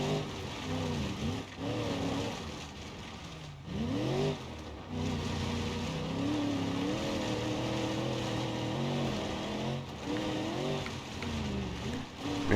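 Stock Marauder off-roader truck in BeamNG.drive, its engine droning loud and steady with rising and falling revs as it pulls through off-road terrain, with brief dips in the sound and no talking.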